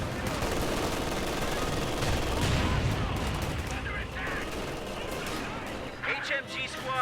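Sustained burst of MG42 machine-gun fire in the Company of Heroes 2 battle on Hill 400, a dense rattling fusillade mixed with other gunfire and explosions, with a voice talking over it.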